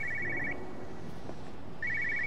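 A telephone rings in the game Everybody's Gone To The Rapture, two bursts of rapid trilling bell separated by a pause, moderately quiet over a low ambient hum.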